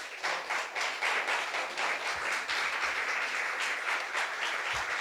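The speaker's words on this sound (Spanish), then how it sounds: "Los aplausos son para el Señor." A church congregation claps during a Spanish-language service, steady rhythmic unison applause filling the room, moderately loud and alone without talk.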